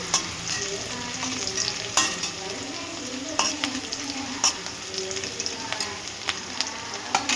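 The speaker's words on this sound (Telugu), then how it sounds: "అవి బాగా రోస్ట్ అవ్వాలి ఫ్రై అవ్వాలి" Potatoes sizzle steadily in a hot pan while a utensil scrapes and stirs them at irregular intervals, close and fairly loud.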